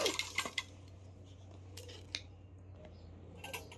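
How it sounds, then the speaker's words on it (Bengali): A washed spoon and bowl are handled in a quiet room, giving a few light metallic clinks and taps, clustered at the start and again near the end, faint and close by. "এই যে চামচ বাটি ধুয়ে নিয়ে আসলাম"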